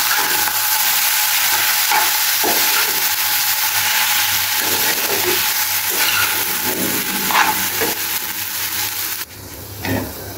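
Noodles cook in a hot pan with a loud, steady hiss and sizzle, and a few soft knocks and stirs break up the sound before it drops near the end.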